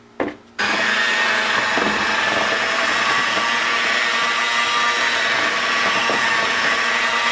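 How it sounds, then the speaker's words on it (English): An electric mixer whirs continuously and fairly loud, beating butter with cinnamon, sugar and a pinch of salt, after a brief clatter at the start, with no talking. "now you'll mix this until well combined"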